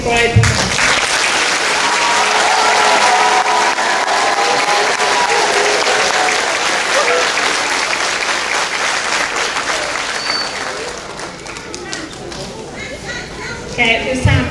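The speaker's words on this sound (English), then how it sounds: "One final clap for all of our fifth graders" Enthusiastic crowd applause for fifth grade graduates at an elementary school graduation, heavy clapping and cheering voices that swell early, hold steady, then thin out with scattered claps and chatter.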